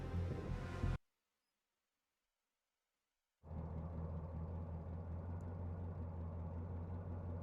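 A police squad car engine in the video game Collar X Malice gives a low, steady rumble that cuts out into about two and a half seconds of silence, then returns at the same even level, with no voices.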